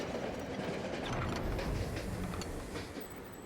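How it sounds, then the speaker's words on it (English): A train in the video game Monster Train 2 lurches to a stop, a steady rumbling, clattering mechanical roll with faint rhythmic clicks, loud and continuous for several seconds. "The train lurches to a stop and you once again find yourself before an ornate table."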